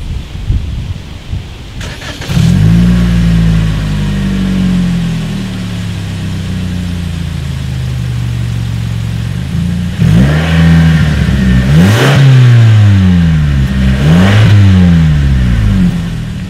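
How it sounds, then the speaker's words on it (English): A 2019 Toyota Camry V6 with dual exhaust starts up, settles into a steady idle, then revs sharply three times near the close, loud and close to the tailpipes. "As always, here is that exhaust clip."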